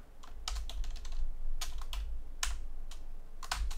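Kotlin code typed on a computer keyboard: close, quick bursts of clicking keystrokes with short pauses between runs and no voices.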